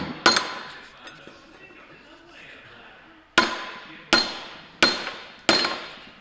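An old bolt being tapped through an engine part held on a vise: one sharp metallic hammer strike, a pause, then four ringing blows in quick succession, loud and close with brief decays.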